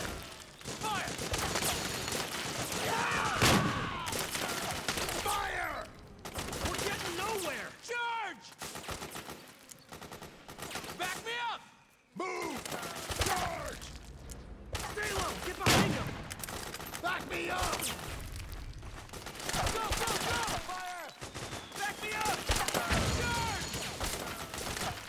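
Metal Gear Solid 4: Guns of the Patriots gunfire on PS3 rattles through a long battle scene, with bursts of shots, explosions and shouting voices layered throughout at varying loudness.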